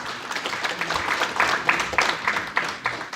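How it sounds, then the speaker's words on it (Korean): An audience at a panel discussion gives a professor a round of applause, a steady dense patter of many hands clapping at moderate loudness for a few seconds. "교수님께 큰 박수 한번 보내드리시죠"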